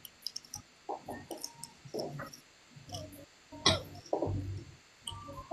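Several short, dry coughs and throat-clearing bursts come in quick clusters, fairly close, with quiet pauses between them.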